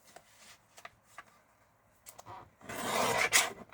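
Paper trimming on a 12x12 sheet of designer patterned paper, cutting off a strip: a few soft scrapes and taps, then a louder sustained rasping slice near the end, close and fairly quiet.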